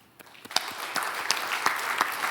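Church congregation applauding during a Sunday worship service, a steady burst of many hands clapping at close to mid range, loud and continuous.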